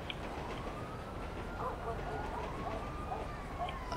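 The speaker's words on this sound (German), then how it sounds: "da kommt der Krankenwagen" An ambulance siren wails in the GTA V video game, a rising and falling tone sweeping steadily across the whole stretch against constant game noise.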